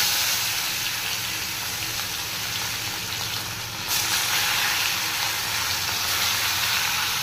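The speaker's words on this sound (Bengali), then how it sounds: "এবার এর মধ্যে মাছগুলোকে ছেড়ে দেবো।" Fish pieces fry in hot oil with a loud, steady hiss and sizzle, which jumps louder and brighter partway through as more oil spatters, heard close up without speech.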